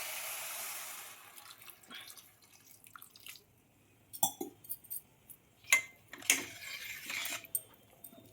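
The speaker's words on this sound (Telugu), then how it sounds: "ఇప్పుడు మనం ఏం చేయాలి అంటే నీళ్ళు పోయాలన్నమాట." Water is poured into a cooking pot with a short hissing splash, followed by scattered drips, light clinks and small splashes, quiet and close.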